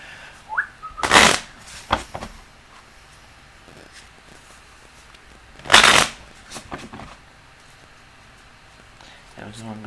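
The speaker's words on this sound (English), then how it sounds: "Just take that one and keep shuffling." Tarot cards being shuffled in two loud bursts of riffling, near and close, separated by a few lighter card flicks and quiet handling, with a voice speaking softly in between.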